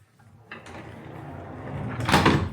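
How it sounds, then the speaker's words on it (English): A hotel room door in a Universal Beijing resort is opened, starting with a soft click and followed by a sliding rush that swells louder near the end. "There's also this door."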